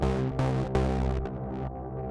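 A bass sound turned hard and gritty by the Roar distortion plugin in Ableton Live 12, playing a few thick, buzzing sustained notes with dense harmonics, loud and alone.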